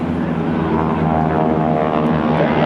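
A GEICO Skytypers propeller airplane formation drones steadily overhead at a naval air station airshow, a loud, continuous engine hum with no breaks.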